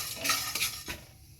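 Whole cumin and other whole spices are dry-roasted in a pan and stirred, giving two or three quick rattling, scraping strokes of a spoon against the metal before trailing off.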